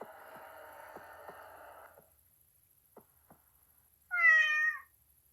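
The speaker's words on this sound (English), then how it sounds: "A cat?" A single cat meows clearly at close range in MazM: The Phantom of the Opera, a short rising-and-falling call that follows a quiet stretch of low hum and a couple of soft knocks.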